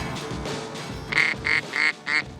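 Ducks quack during a hunt on the Great Salt Lake: four loud, nasal calls in a quick rhythm after a brief stretch of softer, muffled bird noise.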